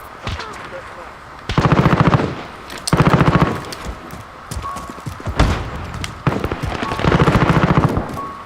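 Automatic gunfire in Modern Warfare, loud rapid bursts repeating every second or so with single shots between, over busy game sounds and brief voice callouts.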